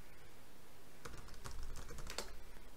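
Keys clatter on a computer keyboard as a command is typed into a Kali Linux terminal, a quick irregular burst of close clicks after a second of quiet room tone.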